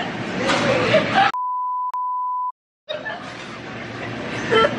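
A steady pure censor beep, about one second long and cut by a brief break, sounds alone between stretches of lively chatter among friends.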